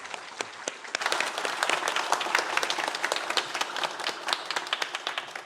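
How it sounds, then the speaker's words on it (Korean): A church congregation at a Sunday morning service gives a round of blessing applause for the young adults, dense overlapping clapping that swells and holds steady for several seconds, moderately distant in a large room. "이 청년들 더욱 영육간의 강건한 삶을 살라고 한 번 더 축복의 박수를 좀 부탁드리겠습니다."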